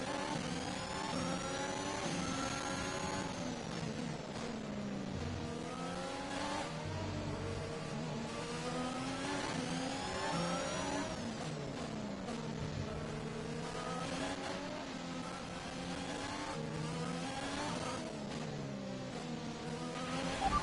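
Formula 1 car engine in the F1 2021 video game during a race at Singapore: a continuous high-revving engine scream rising and falling through gear changes, loud and steady throughout, with no talk.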